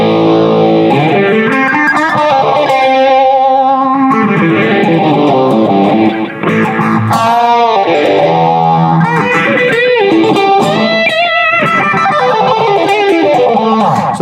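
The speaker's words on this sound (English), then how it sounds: "So this has a little bit of a slap back delay in this sound, a little bit of reverb." An electric guitar played through a NUX Cerberus multi-effects pedal with slap back delay, reverb and flange sounds loud and continuous, its distorted chords sweeping in a wavering jet-like flange with echoing repeats, with no talking.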